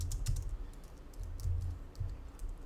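Keystrokes on an unfamiliar computer keyboard clatter in quick, irregular bursts as tickers are typed into a list, close and fairly quiet with no talking.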